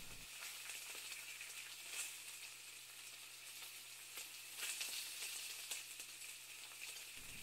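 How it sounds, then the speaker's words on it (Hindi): Pizza samosas deep frying in hot oil give a steady, close sizzle with crackling bursts and no talking, running from start to finish. "अब इसको गरम ऑयल में डालकर डीप फ्राई कर लें, जब तक इनका रंग बदल कर सुख सुनहरा ना हो जाए।"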